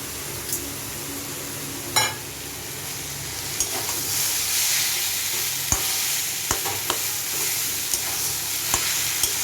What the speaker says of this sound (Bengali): এই যে বাদাম ভাজাগুলো দিয়ে দিচ্ছি